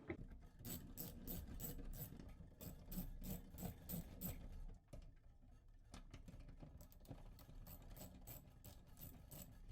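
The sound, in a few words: socket wrench removing thumb nuts from Quest M3s coffee roaster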